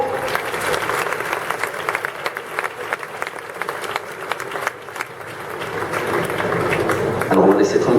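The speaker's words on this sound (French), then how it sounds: "on peut les applaudir à nouveau" Audience in the Dax bullring applauding performers at a traditional Landes-style course, sustained clapping across the arena that swells louder toward the end, with voices mixed in.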